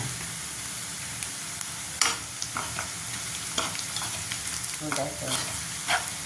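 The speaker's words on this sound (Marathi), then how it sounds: "तेजपान जिरा मोहरी कांदा लसूण त्याची फोडणी" Tempering of bay leaf, cumin, mustard seeds, onion and garlic in hot oil, a close, steady sizzle with sharp bursts of spitting and crackling scattered throughout, alone without talk.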